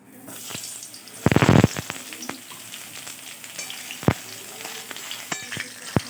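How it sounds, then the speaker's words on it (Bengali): Oil sizzles steadily as pieces of pointed gourd fry, with a loud burst of crackling early on and sharp clinks of a utensil against the pan. "এবার আমি পটলগুলো ভেজে নেব"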